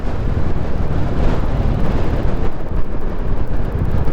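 Strong wind buffets the microphone during a ride on a Royal Enfield Classic 350 motorcycle, a loud, constant roaring rush that covers everything else.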